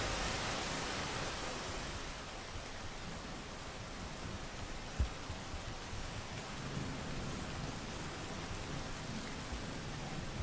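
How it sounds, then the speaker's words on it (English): Steady rain in the video game Rain World pours down in a continuous hiss, with a faint low rumble and one sharp knock partway through; no voices. "It is, it's just straight up raining."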